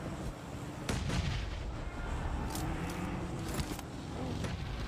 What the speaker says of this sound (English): Nade after nade to keep the pressure on downhill.